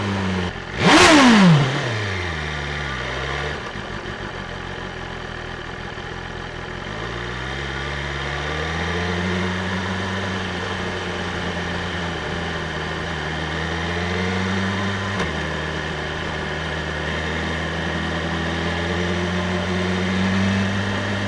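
A motorcycle engine recorded up close from under the passenger seat while riding: a sharp rev at the start, then a steady, loud rumble whose pitch rises and falls gently as the bike cruises.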